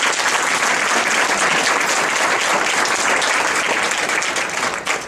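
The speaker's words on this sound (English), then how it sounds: "Let's give them a round of applause." Audience applause at a college honors ceremony for top high school juniors, loud and steady dense clapping from a large crowd that holds for about five seconds and eases slightly at the end.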